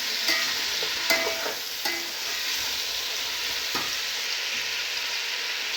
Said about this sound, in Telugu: టమాటా వేసుకొని కలుపుకోవాలన్నమాట. కొంచెం టమాటాలు కూడా వేగితే బాగుంటుంది.